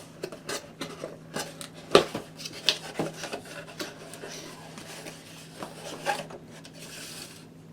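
Packaging for an Ecosmart 125-watt replacement LED light bulb being opened nearby: scattered crinkles, rubs and sharp clicks of plastic and cardboard, with one louder snap among irregular handling noises and a faint steady hum beneath.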